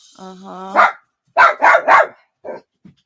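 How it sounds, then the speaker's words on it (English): Dogs bark indoors in a close, loud burst: a whine, then several sharp barks in quick succession and a couple of softer trailing yips. "Man, these dogs are on my last nerves."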